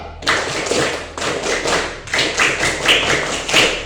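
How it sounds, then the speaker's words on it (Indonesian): A classroom of students performs the scout clap together, loud bursts of group clapping in a quick patterned rhythm with short pauses between phrases, close and energetic. "kita akan tepuk pramuka dulu biar lebih semangat"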